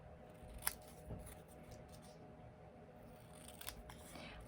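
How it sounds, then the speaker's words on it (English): Scissors snipping off the edge of a paper card, a few faint crisp clicks and cuts spaced apart, close and quiet over a low room background. "so I'm just going to cut that off."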